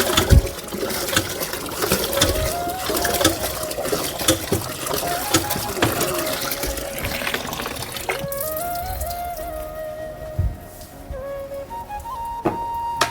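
Pure pipe water pours into a 10-litre bucket in a steady, splashing gush, its pitch rising gradually toward the end as the bucket fills, with some voice activity mixed in.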